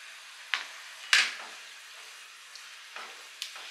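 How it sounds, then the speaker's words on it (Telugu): Fried chicken pieces stirred into a creamy garlic sauce in a pan, giving a steady soft sizzle broken by several sharp scraping stir strokes, close and clear with no talking. "ఇవన్నీ క్రీమీలో బాగా మిక్స్ చేసుకుందాం."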